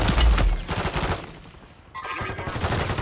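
Rapid gunfire from Warzone on Rebirth Island, a dense fusillade of overlapping shots and bursts, loud and close at first, easing midway, then rising again with more shooting.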